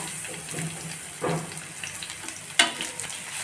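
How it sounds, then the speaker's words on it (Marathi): Sliced onion frying in a pan with chopped garlic, ginger and green chilli for Hakka noodles: a soft, low sizzle with a couple of brief stirring clinks, fairly quiet and with no talking. "आता मी ॲड करते एक उभा कट केलेला कांदा"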